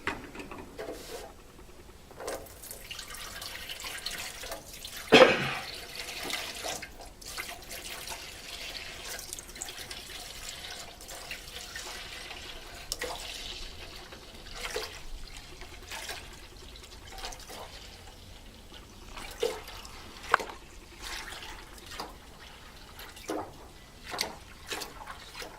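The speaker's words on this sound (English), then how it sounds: "pour that all into the main tank." Treated water from a one-gallon jug poured into the main tank of an Eco Master setup, a soft continuous trickle with scattered drips and splashes. One louder slosh comes early, and the pour is close and quiet throughout.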